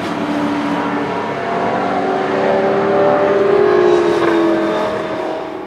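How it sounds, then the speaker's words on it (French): A V8 Supercars Ford Falcon race engine, older era, roars steadily at high revs, its pitch climbing and sliding, loud and close with no talking. "je vous ai retrouvé un petit son de moteur de V8 Supercars, mais de l'époque"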